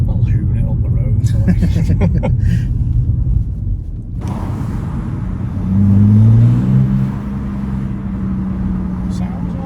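A BMW 330d diesel car accelerates past in a flyby, its low engine rumble swelling loud and near, then fading. Voices talk over the opening seconds.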